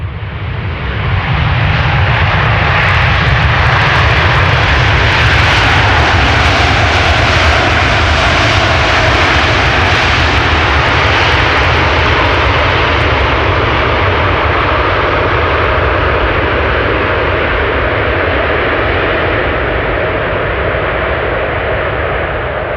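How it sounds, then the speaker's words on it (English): A jet airliner landing on runway 18R at Amsterdam Schiphol roars loudly as its thrust reversers spool up after touchdown, a dense sustained rush that builds then slowly fades, no talk. "Let's listen for the reversers."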